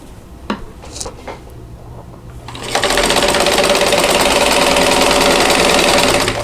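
A sewing machine chain pieces owl quilt block units, first a few soft starts and stops, then a loud, steady, fast mechanical whir running without pause through to the end.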